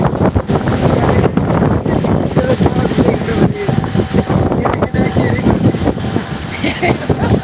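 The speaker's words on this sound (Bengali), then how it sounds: "প্রচন্ড বৃষ্টি হচ্ছে" Heavy rain and strong wind on a sea beach make a loud, constant roar, with gusts buffeting close and surf rumbling underneath throughout.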